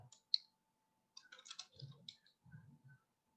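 Computer keyboard typing as a school name is entered, faint and close, with one sharp click followed by a short burst of soft keystrokes and a few muted taps.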